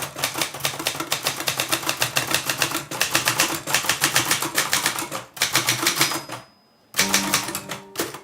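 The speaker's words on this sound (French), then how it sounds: "J'aime bien le bruit que fait la machine à écrire." A manual typewriter being typed on steadily, dense rapid key strikes close by with a brief pause near the end followed by a carriage-return ding and more keystrokes; no talking.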